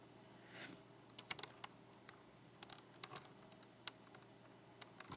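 Someone types a search query on a computer keyboard, with scattered, irregular key clicks close by in a quiet room.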